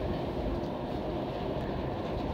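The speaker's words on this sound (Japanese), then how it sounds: "運転再開いたします電車動きますのでご注意ください" A steady low rumble of a JR E231-series electric train on the Narita Line starting to move and rolling along, continuous and even, with no voices.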